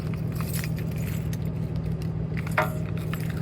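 Keys jangling in cold outdoor air beside a box truck while someone searches for them, light metallic clinks over a steady low engine hum, with a sharper rattle near the end.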